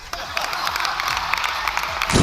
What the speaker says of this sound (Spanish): A mí este aplauso me ha sonado despedida.